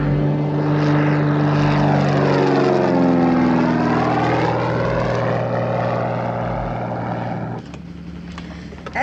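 A propeller airplane roars loudly and steadily as it takes off, engine tone sweeping in pitch before dropping off near the end, with no talking.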